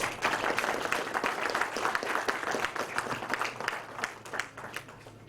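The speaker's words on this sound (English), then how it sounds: "Can I invite him on stage with a huge round of applause?" A conference audience applauding steadily, dense clapping that holds for several seconds and slowly thins toward the end.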